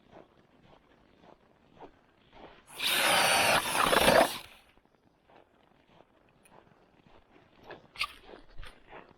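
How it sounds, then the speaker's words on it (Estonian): An ice auger drills a hole through early-season lake ice for perch fishing, giving one loud grinding burst of about two seconds amid quiet crunching footsteps on the ice. "puurime siia ohtralt auke ja hakkame otsima ahvenat"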